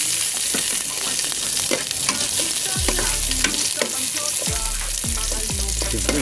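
Onions frying for ginataang native chicken, a loud steady sizzle with repeated scraping stir strokes and low thuds against the pan, continuous throughout.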